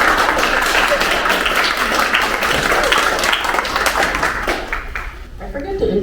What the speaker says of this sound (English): Let's give her applause again.